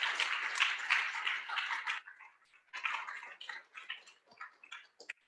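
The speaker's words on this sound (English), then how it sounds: "Give yourselves a big round of applause." Student senators applauding over a video call, a thin, crackly patter of many claps that runs steadily, breaks off briefly, then resumes in scattered, fading bursts.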